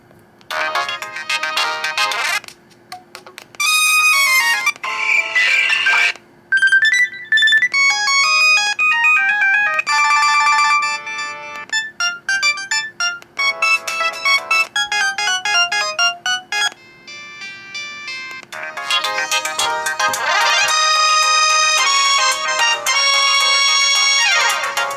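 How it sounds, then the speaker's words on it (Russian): An LG GS155 mobile phone plays its ringtone melody loudly and alone, a bright electronic tune of quick stepping notes with short pauses that swells back to full volume near the end. "Мелодия звонка."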